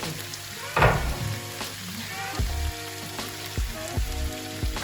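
Chicken sizzles steadily in a hot pan as chives and lemon juice go in, a loud hissing fry with a brief surge and soft scraping stirs, close by with no voice.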